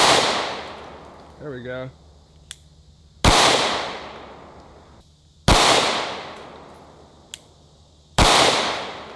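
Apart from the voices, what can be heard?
9mm gunshots fired at a Sentry safe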